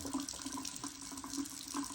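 Water runs steadily from the faucet of a FRIZZLIFE MK-99 under-sink filtration system, a soft continuous flow splashing into the sink at low level with no talk.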